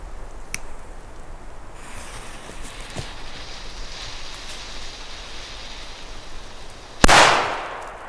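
A single PGE D-Böller firecracker bangs once, loud and sharp, near the end, its crack ringing out briefly over quiet outdoor background noise; no second blast follows.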